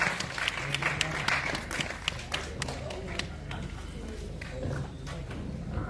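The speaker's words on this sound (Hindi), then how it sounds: "आपकी तालियां हो जाए, तालियां बजती रहनी चाहिए" Audience applause at an award ceremony for a jury actress, scattered claps mixed with crowd noise and a host talking over it, a moderately loud, uneven texture.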